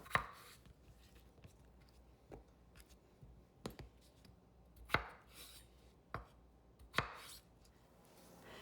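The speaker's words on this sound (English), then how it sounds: "Our next step is to cube the potatoes." A kitchen knife chops potatoes into small cubes on a cutting board, giving roughly eight crisp, irregularly spaced chops, close and clear against a quiet room.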